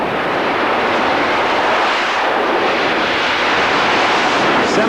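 Bob Moats' jet-powered semi-tractor truck with turbofan propulsion at a 1992 IHRA drag strip, a continuous loud, broadband jet roar that holds steady and thick throughout.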